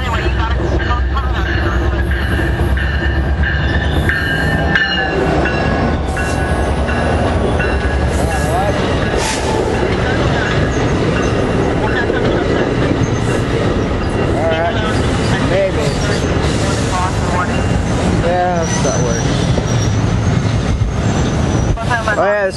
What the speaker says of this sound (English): This is the extra train.